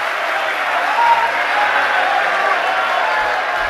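Steady, dense audience applause at a Jain religious discourse, sustained and loud throughout with no break.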